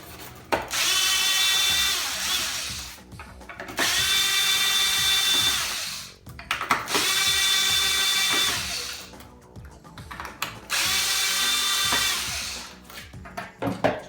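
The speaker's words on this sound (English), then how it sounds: "You can do that by taking these 4 screws out." A power drill works screws out of a hoverboard's wheel housing box, four loud sustained whirring bursts of about two seconds each with short pauses between, close and alone.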